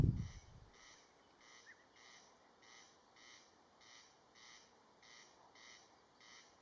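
A bird repeats a harsh, rhythmic call about twice a second, steady and fairly distant, with a faint low thump at the very start, heard while observing a red-backed shrike.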